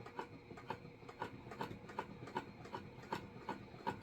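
A sewing machine stitches slowly across a fabric circle, with a quiet, regular mechanical ticking of roughly three stitches per second at low volume.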